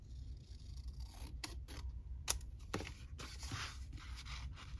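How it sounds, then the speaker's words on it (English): Scissors snip through paper and envelope material in a junk journal craft session, a few sharp close cuts spaced irregularly over quiet background rustling. "Shall we snip it? Yes, we shall snip it."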